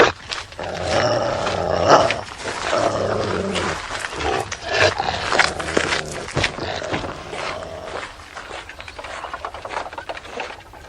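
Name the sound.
chained dog growling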